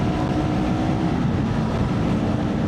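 A small motorcycle engine drones smoothly while riding, a dense steady rumble mixed with wind noise, close and fairly loud throughout with no talking.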